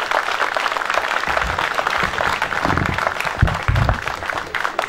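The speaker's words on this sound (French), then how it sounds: "je voudrais qu'on ait encore un grand honneur d'applaudissements aussi pour tous ces gens-là" An audience applauds steadily and densely throughout at a 50th-anniversary celebration of the festival committee in Brie-sous-Matha, with a few louder bursts of clapping near the end.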